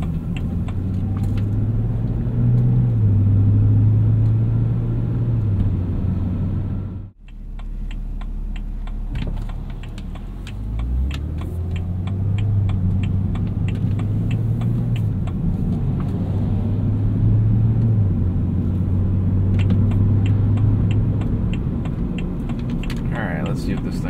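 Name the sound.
car cabin noise while driving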